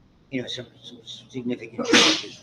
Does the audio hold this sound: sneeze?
yes